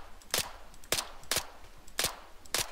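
Five evenly spaced single gunshots from shooting at a light in the military video game Arma 3, sharp cracks roughly every half second with a quiet gap between each, no talking.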